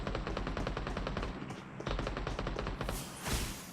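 Rapid automatic gunfire in a video game, bursts of close, punchy shots in quick rhythm with brief pauses, ending with a louder blast.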